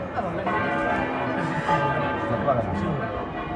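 Church bells of the Santos Juanes church in Valencia, Spain, swung in a full general peal, ring continuously in a dense, overlapping sound, steady and fairly loud, with voices faintly mixed in.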